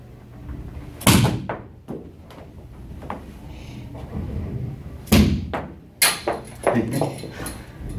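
Plastic rehab pins get knocked around, giving sharp hollow clacks and thuds in irregular bursts, with two bigger clattering hits and scattered smaller knocks, alongside a person talking.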